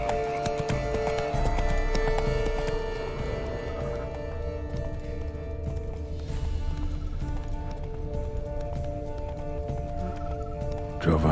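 Roach, a horse in The Witcher 3: Blood and Wine, gallops with a steady clip-clop of hooves under dense game music and ambience, continuous and fairly loud throughout.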